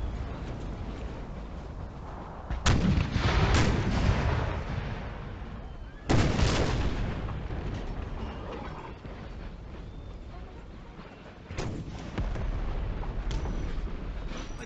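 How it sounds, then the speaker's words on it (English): Cannon artillery fires in a Total War battle: three heavy booms, each followed by a long rumbling decay, with continuous battlefield noise underneath. "Don't trust my own cannon fire though."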